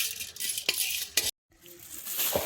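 Cardamom pods are dry-roasted in a pan for black kavuni rice laddu, rattling and scraping against the metal in light clicks and stirring scuffs, with a brief silent break midway.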